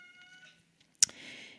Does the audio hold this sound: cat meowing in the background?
yes